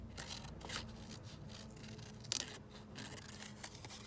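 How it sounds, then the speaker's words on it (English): Scissors snipping through paper to cut out butterfly shapes for an art journal page, quiet close crisp snips scattered in irregular bursts with one sharper clip near the middle. "let's just cut out a couple of the butterflies"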